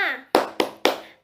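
Three sharp rhythmic hand claps in a primary-school classroom chant, loud and close, evenly spaced, following a brief sung voice at the start.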